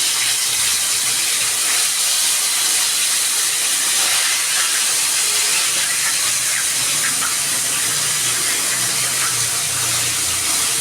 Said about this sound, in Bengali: এই যে কই মাছগুলো ভাজা হচ্ছে